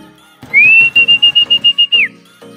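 A person whistles to call racing pigeons during derby training, a sustained, steady high whistle held for over a second, then dipping at the end, with rhythmic thumping or tapping beneath it.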